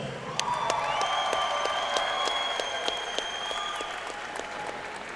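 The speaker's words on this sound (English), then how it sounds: "Another round of applause." Steady applause from a crowd at a combat sports fight after a first-round knockout fills the whole stretch, dense clapping at an even level with a few tonal sounds ringing above it.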